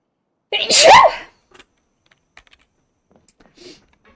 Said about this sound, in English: I feel like I'm about to sneeze.